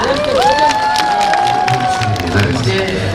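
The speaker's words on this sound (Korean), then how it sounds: "뜨거운 사랑, 큰 박수 부탁드립니다." Applause and cheering rise from a crowd as a performer takes the stage at a live outdoor show, a loud, sustained burst of clapping and shouts mixed with voices close by.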